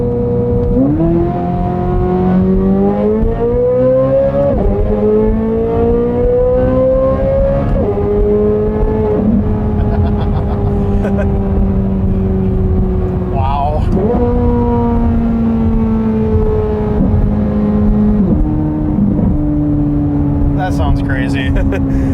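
Corvette Z06 with a naturally aspirated engine and modified exhaust revving repeatedly with its valves open, heard from inside the car as loud rising and falling pulls over a steady rumble.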